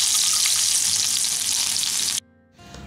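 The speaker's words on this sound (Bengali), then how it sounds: "এবারে এর মধ্যে আমি প্রথমেই দিয়ে দিলাম প্রায় 7 থেকে 8 কোয়া মতো রসুন কুচি।" Chopped garlic, about seven or eight cloves, hits hot mustard oil with a loud, close, continuous crackling sizzle that cuts off abruptly after about two seconds, leaving a quieter hiss.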